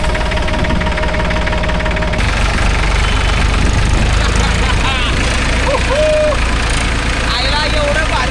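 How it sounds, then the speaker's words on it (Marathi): An old tractor engine runs loud and steady, with a continuous knocking rumble throughout and voices talking over it. "चला आज चलाएगा आपका भाई ट्रॅक्टर"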